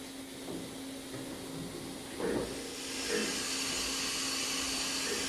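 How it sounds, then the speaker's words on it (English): Automatic tool change on a 1999 Fadal VMC 2016L CNC vertical mill with a 21-tool BT40 changer: a steady machine hum and hiss, broken by a short mechanical clunk near the middle and a second, softer one a second later. "Now we're going to do a tool change."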